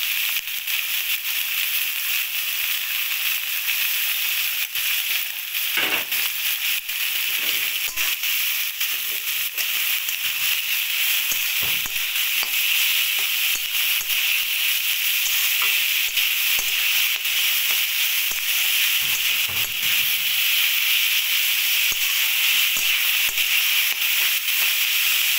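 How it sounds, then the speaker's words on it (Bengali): Cabbage dropped into a hot wok over medium-low heat, giving a dense, even sizzle that holds steady throughout, with faint scrapes of stirring now and then. "এবার এরপরে দিয়ে দিচ্ছি বাঁধাকপি"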